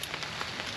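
Rain falling steadily outdoors at a rifle or airgun range, a soft continuous hiss with a few faint drop taps, quiet and close, no voices.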